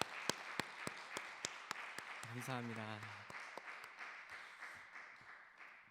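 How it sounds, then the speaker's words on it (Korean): A church congregation at a Friday worship service claps steadily as a broad wash of applause, with distinct sharp claps on a regular beat; a voice speaks briefly over it. "우리 에베소 선교회를 격려하며 축복하며 하나님께 영광의 박수 올려드리겠습니다"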